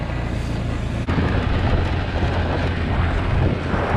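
Drift Chevrolet Corvette being driven, a loud steady engine roar with a sharp jolt near the start, then a continuous rumbling drone with no voices.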